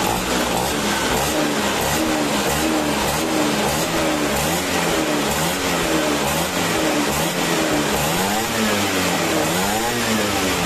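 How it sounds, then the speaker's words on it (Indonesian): Vespa scooter engine fitted with a racing CDI, revved hard and continuously close up, a loud buzzing two-stroke drone with rising and falling pitch sweeps as the throttle is blipped repeatedly. "Geber lagi."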